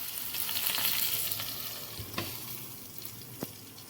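Okra (bhindi) sizzles steadily in a covered pan over a constant hiss, with a few brief knocks and clicks of the lid or utensil near the end.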